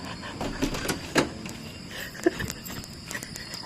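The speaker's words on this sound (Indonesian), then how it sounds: "bunyi suara ketukan ya" Scattered knocks on a door during a staged ghost prank at an isolation house sound as a few irregular, fairly close hollow thuds over a noisy background hiss.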